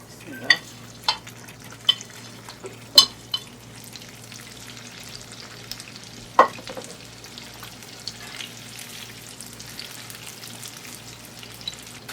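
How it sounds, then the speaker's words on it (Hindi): Paneer cubes being deep fried a second time in hot oil for paneer Manchurian give a steady low sizzle, with a few sharp pops and clinks scattered through it and no voices. "यानी कि मैं डीप फ्राई करूँगी"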